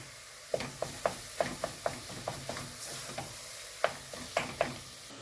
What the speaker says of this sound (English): you will mix it through with the onion, bacon, garlic as well, and the tomato puree